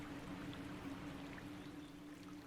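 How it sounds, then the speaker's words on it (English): A video-game waterfall pours in a constant, even rush of falling water, a steady splashing hiss heard alone at moderate volume without any talking. "Oh, you see now we're at the top of the waterfall"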